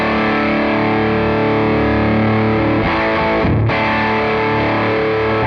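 Electric guitar driven hard into a heavily saturated amp, with a Tonex threshold cranked up: a loud, thick distorted chord sustains steadily with a brief choppy break near the end, no voices present.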